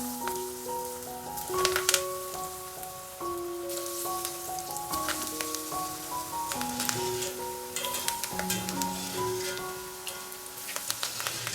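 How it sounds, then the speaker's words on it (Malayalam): Chickpea pakoda frying in hot oil gives a steady, close sizzle with crackling pops, alone and without voices, while soft music plays over it. "ഇതുപോലെ തന്നെ ബാക്കിയുള്ളതും പെട്ടെന്ന് ഫ്രൈ ചെയ്തെടുക്കാം"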